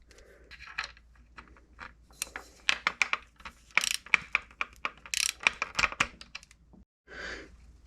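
A torque wrench clicks and ratchets while bolts on a brake rotor assembly are tightened. Quick bursts of close metallic clicks come in uneven runs, broken by short pauses.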